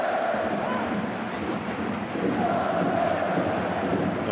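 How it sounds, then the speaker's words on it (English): Football crowd at a Japanese league match between Sanfrecce Hiroshima and Hokkaido Consadole Sapporo, a steady stadium roar of applause and cheering that swells slightly, with a commentator's voice mixed in. "Appreciated by the crowd,"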